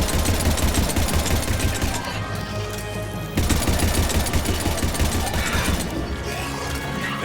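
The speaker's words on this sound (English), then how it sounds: "Shoot the air for a bit." Rapid, sustained gunfire shot into the air in the game Mass Effect 3, loud and close, a dense rattling stream with a brief pause partway through before resuming.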